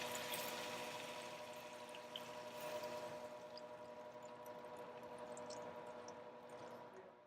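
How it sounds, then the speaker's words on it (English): Hot water poured into a bowl of seasoning while preparing penne broccoli Alfredo with Cajun salmon, a soft continuous trickle and slosh, fairly quiet, with no talking. "Add some hot water that I've had sitting here into there. Mix it out, just like that. And pour it right in there."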